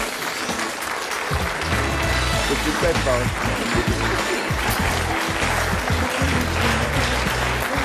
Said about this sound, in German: Begrüßen Sie mit einem tosenden Applaus Herrn Dieter Schmähler